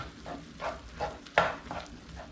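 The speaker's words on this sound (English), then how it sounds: "Give this a nice stir around." Chicken curry with vegetables and coconut milk is stirred in a pot, a series of rhythmic soft scraping strokes about every third of a second over a gentle simmering sizzle, one sharper clink midway.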